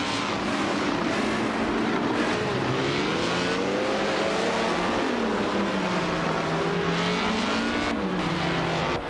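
Video game race cars drone loudly and steadily, engine tones rising and falling in overlapping sweeps as several cars accelerate and pass close by.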